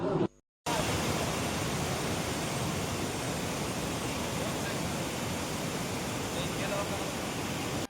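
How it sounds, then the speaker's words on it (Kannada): Palchuram waterfall near Kottiyoor roars as a steady, dense rush of falling water, loud and continuous after a brief dropout at the very start. "ಈ ವಾಟರ್ ಫಾಲ್ಸ್ ಹೆಸರು ಪಲ್ಚುರಂ ವಾಟರ್ ಫಾಲ್ಸ್."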